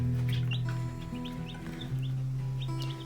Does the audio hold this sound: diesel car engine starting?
no